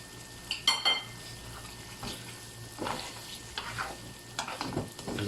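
A spoon stirs mutton karahi in a pan, giving soft scraping scrapes and clinks in uneven strokes over a faint sizzle of frying. The sounds are close but quiet.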